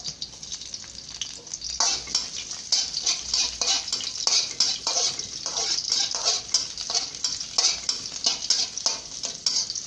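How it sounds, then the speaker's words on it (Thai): Garlic stir-fries in a small amount of oil in a pan for fried rice: a close, continuous sizzle broken by frequent scraping and stirring clicks that grow busier after the first two seconds. "ผัดกระเทียมให้หอมครับ"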